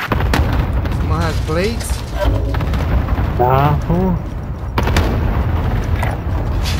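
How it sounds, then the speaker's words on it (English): Cluster strike explosions land in the Call of Duty Warzone Rebirth Island game, a run of heavy booms rumbling underneath a player's voice asking a quick question. "Enemy cluster strike incoming. Take cover."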